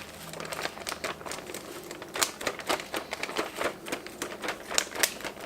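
Breadcrumbs are poured into a plastic bag for shake and bake chicken, giving a close, steady run of crinkling plastic and gritty patter with sharp rustling bursts, and no talking.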